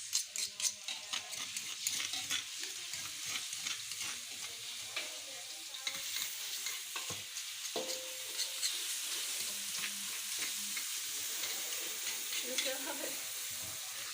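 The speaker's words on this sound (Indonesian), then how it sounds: "Tumiskeun bawang putih jeung bawang bodas nu geus direndos." Garlic and shallots stir-fried in a pan, giving a steady close sizzle and hiss with scraping and stirring clatter from a utensil throughout, no talk.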